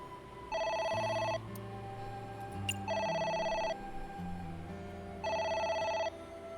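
A telephone rings in the video game AI: The Somnium Files, with three evenly spaced electronic ring bursts over a low, steady musical background.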